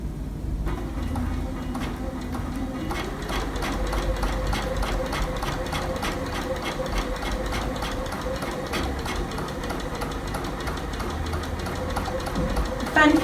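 A sewing machine stitches and couches down a bunting shape in quilting ruler work, a fast steady whirring run of stitches close by with some faint background sounds.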